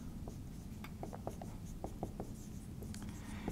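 Pen or marker writing out a calculus term: quiet scratchy strokes and taps in irregular short bursts over a steady low room hum, close and faint, with no talking.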